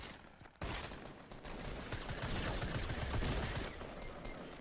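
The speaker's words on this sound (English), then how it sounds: "I shot five times." Dense gunfire in the video game Fortnite, a sudden burst of rapid overlapping shots that continues as a sustained rattle for several seconds, fairly faint.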